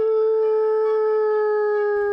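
A person imitates a wolf howl for a wolf howling survey with one long, steady, close and loud tone that holds level and fades near the end.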